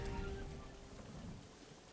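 Faint, steady rain in The Legend of Zelda: Breath of the Wild, Switch 2 Edition, a soft, even patter heard alone with no other sounds.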